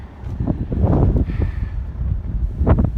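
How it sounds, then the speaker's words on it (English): Wind gusts blowing across an outdoor cattle and feed area, rough buffeting rumble against the microphone with rustling, rising and falling in bursts. "Let's get out of that wind a little bit here."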